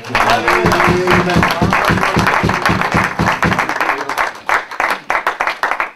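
A church congregation applauds and cheers in acclaim of the Lord, a dense burst of rhythmic clapping that fills the room and then thins into scattered claps, with voices mixed in.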